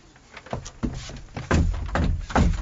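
In an audio drama, a hidden door in a hollow wall gives a series of wooden thunks and scraping knocks, growing louder and heavier with each of about five hits, close and alone.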